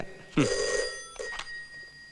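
A landline telephone in a palace rings in two bright, close bursts: a longer first ring, a short pause, then a second shorter ring, with quiet room tone between.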